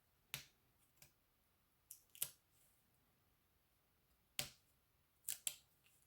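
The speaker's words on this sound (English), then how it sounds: "These scissors are a little bit dull." Dull scissors snip paper for card making in a quiet room, giving about eight crisp, sharp clicks and crunches, some single and some in quick pairs, with silent gaps between them.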